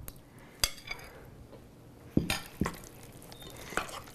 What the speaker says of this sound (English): Watch how much easier it is to stir up now.